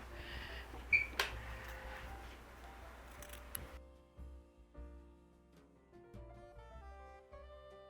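Scissors snip through felt for a handmade Scandinavian Christmas gnome's shoe, a few crisp close cuts followed by softer handling sounds, with quiet background music.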